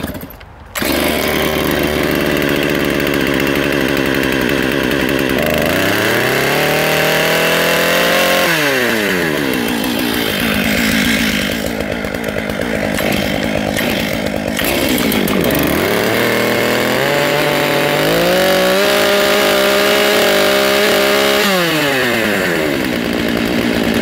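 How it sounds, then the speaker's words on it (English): Two Stihl MS661 chainsaws warm up with loud, close engine noise that rises and falls through repeated revs and settles back to a rough idle, with no talking. "we'll warm up both saws"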